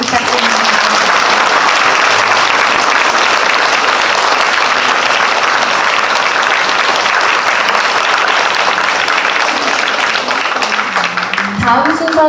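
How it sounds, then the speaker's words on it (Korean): Audience at a church event night breaks into loud, sustained applause, a dense roar of many hands clapping that continues for over ten seconds before tapering as a voice speaks at the end. "조영희 집사님과 박모세 형제에게 큰 박수 부탁드립니다."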